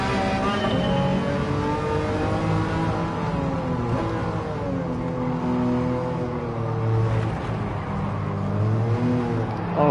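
Engine-swapped VW Bus in Gran Turismo 7 accelerating hard, a loud, continuous engine note climbing in pitch through short-shifted gears with brief dips between rising sweeps.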